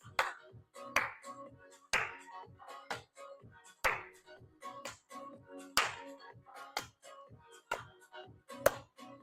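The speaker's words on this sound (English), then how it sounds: "And let's clap our hands." Hand claps from a beginner senior shuffle dance class, sharp and regular, one clap roughly every second over soft background music, fairly close and distinct.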